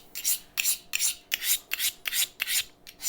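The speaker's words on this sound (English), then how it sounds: "A little steel, sharpen the knife up a little bit." A knife honed on a steel while butchering a whole deer: eight or so rasping strokes in a steady rhythm, close and clear, with no talking.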